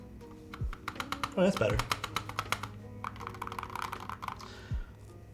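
Fast, close clicky typing on a Holy60 mechanical keyboard with an ABS spacebar, a steady run of crisp keystrokes with a few deeper spacebar thocks, under a brief spoken comment.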